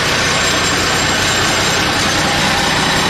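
Inside the cab, the vehicle's motor roars loudly and steadily, a dense broadband rumble filling the space with no pauses.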